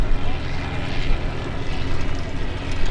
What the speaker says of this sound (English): the Fokker triplane is one of the most famous planes ever built, and certainly is synonymous with Manfred vo